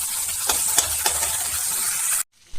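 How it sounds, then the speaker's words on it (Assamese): Onion, garlic, ginger and tomato fry in oil for dal tadka with a close, continuous sizzle, broken by a few stirring scrapes before it stops suddenly. "এইফালে দালি তেল মাৰি পেলাই পিঁয়াজ নহৰু আদা দিলোঁ, বিলাহী দি এতিয়া ভাজি আছিলে।"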